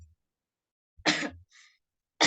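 Speaker at a book discussion coughs once sharply and close to the microphone, then a faint breathy after-sound follows in an otherwise quiet room.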